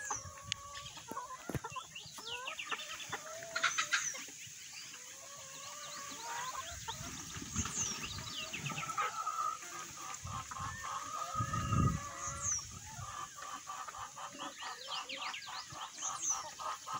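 A small flock of hens taking dust baths and sunning outdoors clucks and croons softly, with scattered murmured calls, an occasional louder cackle and distant crowing, fairly quiet and with no voices.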